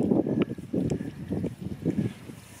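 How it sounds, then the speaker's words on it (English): Gusty outdoor wind buffets the microphone in a rough, uneven roar that rises and falls in broad surges, close and fairly loud, with no talking. "the wind is picking up"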